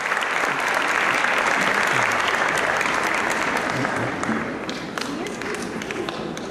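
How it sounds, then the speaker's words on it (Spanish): An audience claps steadily at a school farewell choir and dance performance by sixth-year pupils, a continuous wash of many hands that stays full and then eases a little near the end. "Fuerte el aplauso, por favor, nuevamente."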